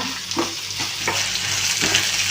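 Onions frying in a pan with a constant close sizzle, stirred in repeated scraping strokes at a brisk rhythm, no voices over it.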